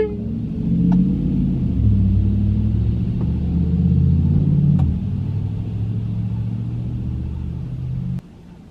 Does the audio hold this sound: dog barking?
no